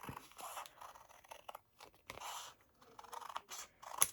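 Scissors make repeated small snips through paper junk journal tags cut from a collage masterboard, a few quiet crunchy cuts spaced irregularly and close by, ending in one sharper final snip.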